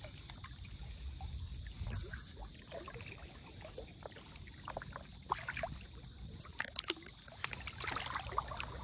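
A person wades through water, giving soft trickling and sloshing splashes that come and go at close range over a low, steady background, with no voices.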